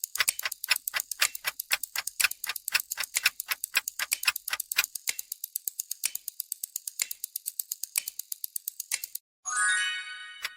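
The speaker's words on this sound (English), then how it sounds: "That was a clock ticking." A mechanical clock ticks close and crisp, roughly four sharp clicks a second for about nine seconds, then a short whirring rattle closes it out.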